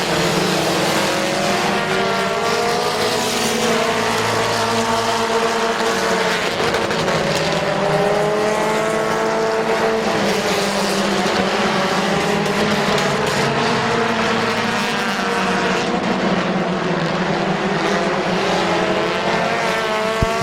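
Several race cars race around Midvale Speedway, a dense, continuous engine roar with overlapping revs rising and falling as the pack circulates, loud and steady for the whole stretch.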